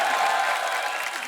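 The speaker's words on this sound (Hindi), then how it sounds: "आप सबकी जोरदार तालियों के बीच प्लीज वेलकम" A studio audience at a television comedy talk show applauds in a steady, evenly sustained wash of clapping with a faint crowd murmur underneath.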